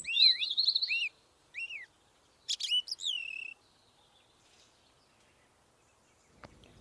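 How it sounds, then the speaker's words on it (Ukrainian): Bright, clear birdsong: several short whistled chirping phrases separated by pauses, fairly close in an otherwise quiet, leafy green spot beside a stadium in Odesa. "Тут так виспівують пташки"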